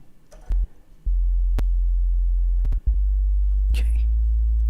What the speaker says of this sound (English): that's a pure bass, no distortion, just simply sine wave